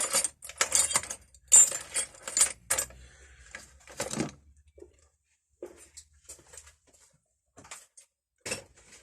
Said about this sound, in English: There's probably about 200 or 300 Allen keys in there.